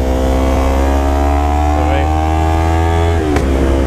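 Yamaha R3 motorcycle at sustained high revs on a freshly resealed twisty road, a loud steady engine drone with close wind rush and a brief gear-change dip near the end.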